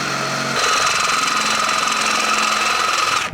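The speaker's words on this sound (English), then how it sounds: "We'll use our next drill bit to step up." A power drill with a step drill bit whirs loudly and close for about three seconds, drilling a hole for boat navigation lights, a steady high grinding whine that stops abruptly.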